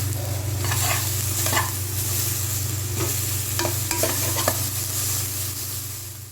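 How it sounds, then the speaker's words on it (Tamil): A pot of field crab soup bubbles and hisses steadily at a rolling boil, with a low constant hum underneath and no voices. "இதை நல்லா கொதிக்க கொதிக்க கொதிக்க"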